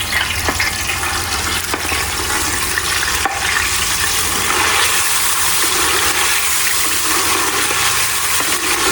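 Herb paste with aloe vera, made without water, poured into a hot urali pot for natural hair oil, giving a steady close sizzle and bubbling that runs throughout without talk.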